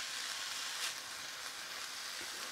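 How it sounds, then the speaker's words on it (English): Ground beef and pork mince browning in a hot pan for a pepper stir fry, a steady close sizzle with faint stirring scrapes, alone without talk. "So we're just browning this off."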